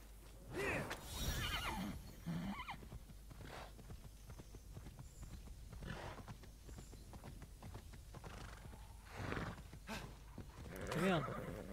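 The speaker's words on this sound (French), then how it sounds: "Mon cheval ne saute pas." Horse neighs and clip-clopping hooves from the video game Immortals Fenyx Rising, with whinnies near the start and end and hoofbeats in between, all under someone talking.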